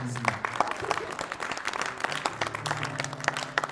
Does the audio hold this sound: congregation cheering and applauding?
yes